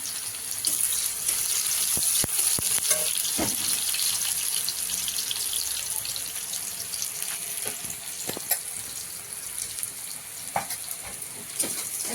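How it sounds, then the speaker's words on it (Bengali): Onion and garlic sizzle and crackle steadily in a hot kadai, with occasional sharp clicks and scrapes of stirring. "কড়াইতে পেঁয়াজ আর একটু রসুন সেতু দিয়ে দিলাম"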